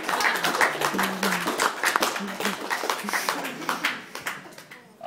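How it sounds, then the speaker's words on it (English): An audience at a comedy club gives a comedian a round of applause, with dense, lively clapping that holds steady before tapering off, and a few voices mixed into the crowd. "we'll just give it up for a round of applause for this guy"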